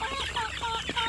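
A White Hatch gamefowl chicken clucks in a short run of close, rapid calls, with other fowl faintly audible around it.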